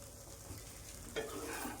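Makhana (fox nuts) frying on low heat, a soft, quiet sizzle that brightens slightly partway through as the pan is stirred, close but faint, with no talking.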